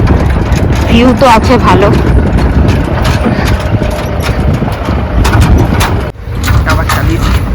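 A car engine idles and rumbles low and steady near a river crossing, a continuous heavy drone under a person talking, with a brief dip near the end.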